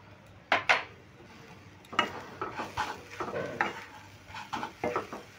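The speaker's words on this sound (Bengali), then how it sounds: "চিনিটা দিয়েও গাজরের সঙ্গে খুব ভালো করে নেড়ে নিচ্ছি।" Carrots and sugar stirred in a pan with a spatula, a series of close scraping and clinking strokes against the metal with a faint sizzle between them.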